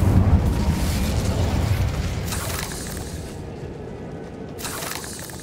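The Incendio fire spell in Hogwarts Legacy bursts into a loud, booming fiery blast that rumbles and fades over a few seconds, with a short crackling flare near the end.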